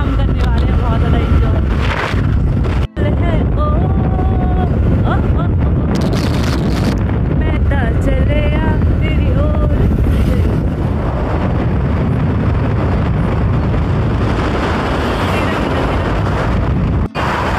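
Strong wind buffets the microphone in a loud, continuous roar on an outing toward a temple, with a voice talking over it throughout.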